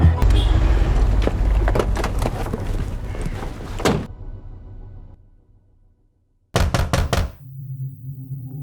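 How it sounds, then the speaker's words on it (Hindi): A door is being broken down in a Hindi crime drama, with a run of heavy repeated thuds and knocks, a quiet lull, then a sudden burst of loud rapid blows. "दरवाजा तोड़ा।"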